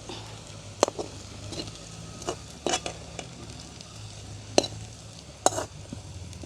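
Onions and dried chillies sizzle in a frying pan in a village home kitchen, with a steady crackle broken by sharp scrapes and clinks of stirring.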